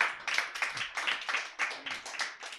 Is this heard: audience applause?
yes